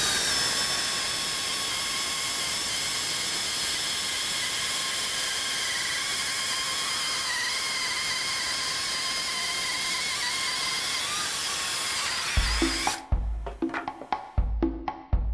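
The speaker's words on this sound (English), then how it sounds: "I'm going to show you how fast this saw cuts with the 14-inch bar." A hydraulic chainsaw with a 14-inch bar, driven by a Pinske hydraulic power unit, cuts with a steady, high, droning whine for about twelve seconds, then stops, leaving a few hollow knocks and thumps.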